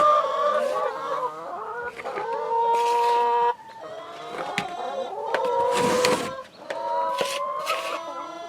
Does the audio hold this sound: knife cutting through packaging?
no